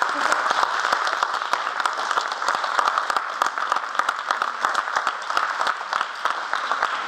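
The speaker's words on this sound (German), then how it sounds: "vielleicht auch nochmal einen Applaus wert für die beiden" Steady applause from an audience at a children's circus show in Spelle, honoring two young performers, dense clapping holding evenly throughout with some voices mixed in.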